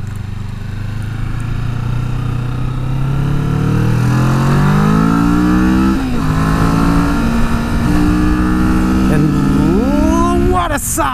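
A Kawasaki Vulcan S motorcycle engine revs hard and climbs steadily through the gears, its pitch rising, briefly dropping at each shift, then surging again, loud and close throughout.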